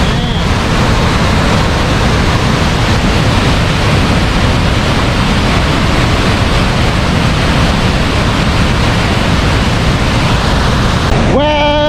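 Athabasca Falls roars in a constant, dense wash of rushing water, loud and unbroken throughout, with a voice briefly breaking in at the very end.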